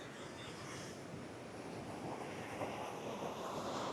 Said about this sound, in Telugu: చూడండి కెరటాలు వస్తున్నాయని ఎలా వస్తున్నాయి చూడండి.